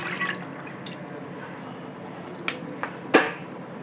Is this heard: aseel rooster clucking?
no